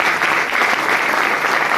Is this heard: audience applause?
yes